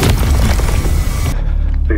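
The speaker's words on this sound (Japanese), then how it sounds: "いや、爆発する前の音。" A dense, loud rumbling roar builds before an explosion in the video game S.T.A.L.K.E.R. 2: Heart of Chornobyl, full of heavy booming thuds, then cuts off abruptly near the end.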